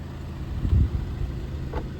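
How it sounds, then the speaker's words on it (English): A locked car sits with its engine running, a low steady idle with a couple of soft thumps near the start, moderately close, with no voices. "So the car's still running"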